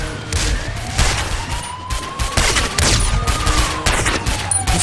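Bursts of rapid gunfire ring out in the game GTA San Andreas, with a siren wailing alongside, loud and close.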